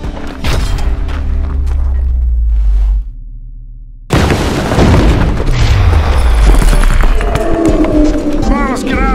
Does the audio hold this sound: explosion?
yes